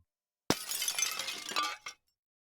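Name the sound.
glass shattering sound effect in audiobook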